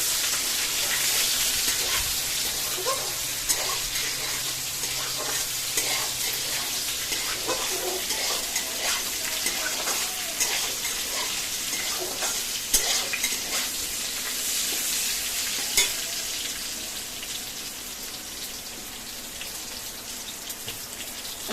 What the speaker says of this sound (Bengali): এবার দিয়ে দেবো পটলগুলো এবার ফাইনালি পটলগুলো দিয়ে দিল এবারে একটু ছাঁকিয়ে নেব